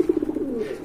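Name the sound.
pigeons cooing at a pigeon market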